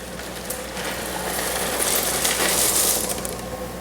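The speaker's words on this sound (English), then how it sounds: "all the remaining oysters in your tub will go back into that Oyster Grow bag" Oysters tumbling back from a tub into a mesh oyster grow bag, a run of hard clattering shell clicks and rattles against a steady background hiss, nearby and fairly loud, with no talking.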